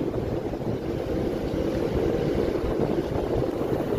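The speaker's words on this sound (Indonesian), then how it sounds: "kita akan lihat proses sandar motor vessel tetap Jaya 1 ya, yang diasis oleh Labrador" Motor vessel Tetap Jaya 1 berthing at a dock, assisted by a tug: a steady low engine rumble with wind and water wash runs throughout, with no voices.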